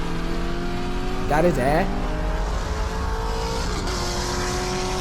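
A Mustang and a Corvette C6 Z06 with a 7.0 race from a roll, engines droning steadily with a sharp rising rev burst partway through, while a voice talks briefly over the car noise.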